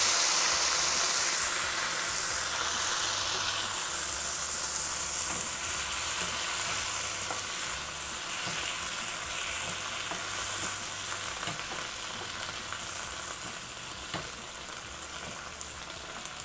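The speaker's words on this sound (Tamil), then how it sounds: "ஒரு 3 நிமிஷத்துக்கு இது நல்லா வதங்கட்டும்" Steady sizzling and frying of vegetables sautéing in a pan for Kerala-style aviyal, with occasional stirring clinks, continuous and close for the whole stretch with no talking.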